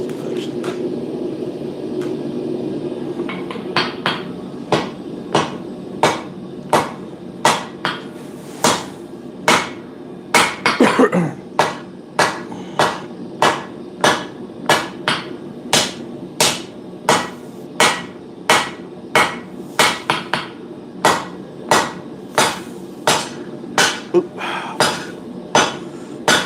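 Steady rhythmic hammer blows on hot steel while forging a pugio dagger, a long run of loud, evenly spaced metallic strikes under a low background rumble.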